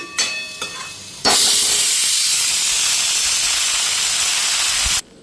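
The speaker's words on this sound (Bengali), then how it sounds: "মশলাটাও দিয়ে দিলাম, এখন ভাজা ভাজা হইতে থাক" Spices with salt and turmeric dropped into a hot pan: a few small clinks, then a sudden loud sizzling hiss that holds steady for about four seconds before stopping abruptly.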